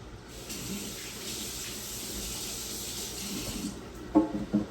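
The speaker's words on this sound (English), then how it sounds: "Let me wash my hands real quick." Hands washed under a running kitchen tap while making tamales: steady, close hiss of flowing water with a few louder splashes and knocks near the end.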